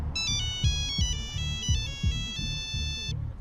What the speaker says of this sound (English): That's your cell phone. The top of the line, best on the market, and best selling cell phone, the Nokia 1100.